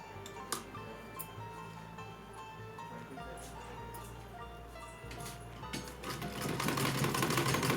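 A sewing machine stitches lace onto a small dress for a Laddu Gopal idol, a close mechanical whir with rapid ticking needle strokes that grows louder and steadier toward the end.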